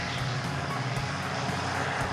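A gyrocopter's aircraft engine drones steadily overhead at an air festival, a continuous loud buzzing hum with a rising rev and no voices over it.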